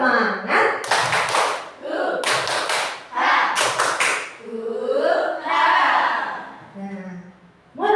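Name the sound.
group doing a rhythmic 'tepuk semangat' clapping chant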